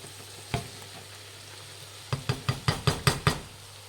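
Cabbage rice being stirred and fried in a pan: one scrape, then a quick run of about seven rhythmic stirring scrapes over a steady sizzle, close and clear with no talk.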